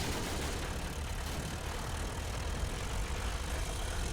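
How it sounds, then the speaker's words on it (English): German WW1 tank engine in the video game Men of War, a steady low, rumbling idle that holds at a constant level throughout with no talk over it. "Love that engine sound."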